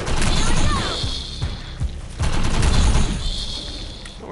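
Rapid gunfire from a weapon in the PS4 shooter Defiance 2050, loud and dense bursts of shots with brief pauses, mixed with mechanical clatter and impacts.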